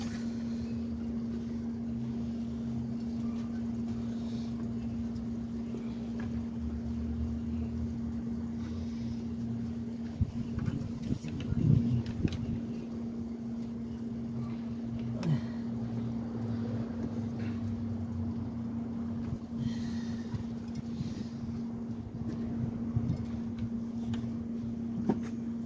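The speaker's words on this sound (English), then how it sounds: "Engine works." A BMW X3 engine idles with a constant low hum, running continuously with occasional clunks and faint rattles nearby.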